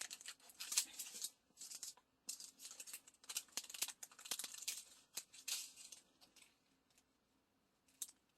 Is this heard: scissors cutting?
yes